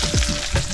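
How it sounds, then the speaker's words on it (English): Mackerel fillet frying skin side down in a pan with garlic, a steady close sizzle with a couple of brief stirring or shifting scrapes, no talk. "Always cook your mackerel skin side down"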